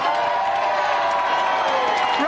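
Studio audience at a television game show, heard as a loud, sustained wash of crowd noise with clapping and cheering mixed together, while a presenter talks over it throughout.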